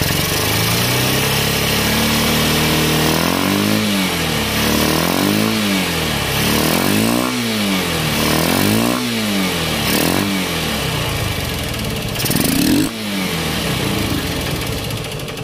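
Honda CB Unicorn 160 motorcycle engine running after a carburettor change, loud and close, idling steadily with a series of repeated rhythmic revs rising and falling, then a final sharper blip.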